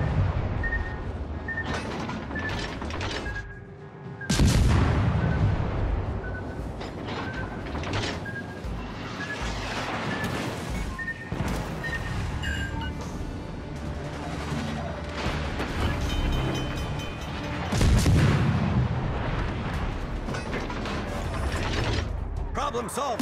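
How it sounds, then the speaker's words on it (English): Warship guns firing in World of Warships: Legends, heavy booming salvos and mechanical clanks over a rumbling battle backdrop, with a voice speaking at times. "All stations, concentrate fire."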